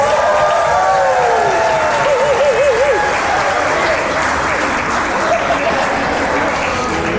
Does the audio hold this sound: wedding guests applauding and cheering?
yes